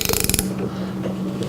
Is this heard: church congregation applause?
no